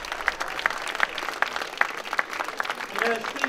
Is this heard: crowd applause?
yes